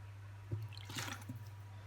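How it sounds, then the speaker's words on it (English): Water splashes and trickles into a G-Fuel shaker cup for a second or so, set against a steady low electrical hum. "So put a little bit more water in there."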